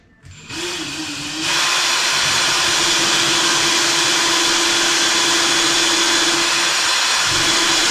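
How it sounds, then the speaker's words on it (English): A power drill bores a pilot hole into a wooden wall stud, a steady loud whine that spins up in the first second, then holds a continuous broadband roar close by until the end, with no talking. "I'm going to drill a pilot hole for this just because it's a decent sized screw"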